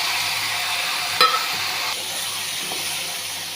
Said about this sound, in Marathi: टोमॅटो टाकू।